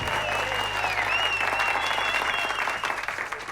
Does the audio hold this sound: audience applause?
yes